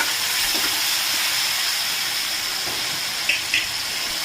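Water poured into a pan of sizzling spices and ginger sets off a loud, steady steam hiss that holds for several seconds, with faint clinks near the end.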